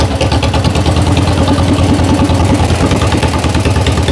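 Up close, a tractor engine idles loudly with a fast, even, chugging pulse that continues steadily through the short clip, with no voices heard.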